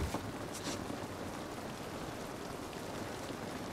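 Steady rain falls in The Last of Us video game, a continuous broadband hiss of drops across the whole stretch with no talk over it.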